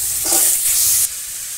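Potatoes hit hot oil with cumin in a wok with a loud, hissing sizzle that holds for about a second, then settles into a quieter, steady fry.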